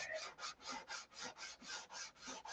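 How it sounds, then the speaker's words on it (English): Rhythmic rasping strokes come from sanding the glassed, doped and tissued nose of a SIG Magnum model aircraft, about ten even back-and-forth passes, close and quiet, with no talk. "and now we're sanding it"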